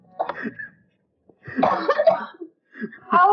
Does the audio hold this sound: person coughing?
yes